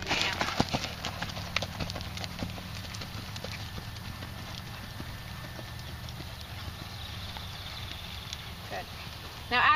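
A ridden horse walks on a surface with a steady clip-clop of hooves at close range, while a person talks over it.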